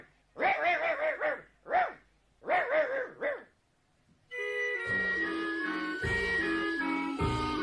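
A dog barks several times in quick, close, loud bursts, then falls silent before instrumental music begins.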